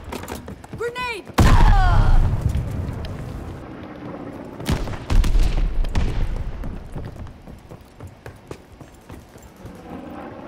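A grenade blast and gunfire in a World War II battleship video game aboard USS Texas, 1945: a sudden loud boom followed by a second heavy explosion, then rattling fire, with players shouting and talking over it.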